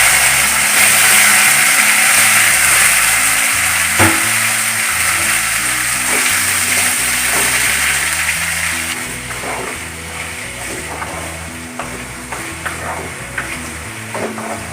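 Ginger, green chili, curry leaves, onion and tomato frying in a pan for a chutney, a loud continuous hiss with scraping stirs, over a low, steady rhythmic tonal backing that softens toward the end.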